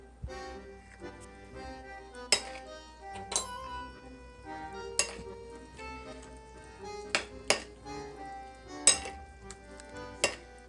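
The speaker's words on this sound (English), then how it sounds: "Let's stir and see how it looks" Apple coleslaw dressing being stirred in a bowl with a utensil: quiet, sparse clinks and taps against the bowl at an irregular pace, close by, with a soft background hum and no talk.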